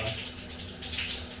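A hotel room shower in Manchester runs, water spraying steadily with a broad, even hiss that carries on without a break.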